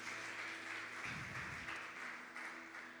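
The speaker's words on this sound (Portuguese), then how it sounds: "Pode aplaudir." Congregation applauding in a church during a sermon: steady, fairly faint clapping spread through the room, with a low hum underneath and a brief rumbling swell partway through.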